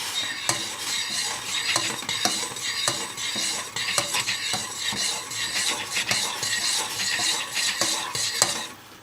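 Rowan berry jelly is stirred steadily in a pot, a spoon scraping and clinking against the metal in quick, repeated strokes over a soft bubbling sizzle, close and loud with no voices.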